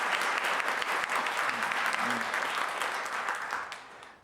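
A church congregation applauds in encouragement, with a dense, full wash of clapping that holds steady and then tapers off near the end.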